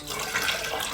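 Water poured from a plastic water bottle into a glass mason jar, a steady close splashing stream running for about a second with no talk.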